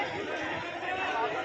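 Crowd chatter fills a busy public area near the Gateway of India in Mumbai, with many overlapping voices murmuring steadily at moderate distance.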